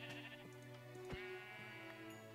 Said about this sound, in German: Oh, so viele Schafe.